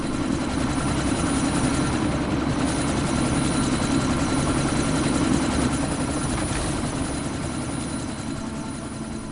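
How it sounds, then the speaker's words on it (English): A helicopter about to take off in Deus Ex Mankind Divided roars steadily and loudly with a dense rotor-and-engine drone, constant throughout and alone with no voices. "That chopper's about to take off!"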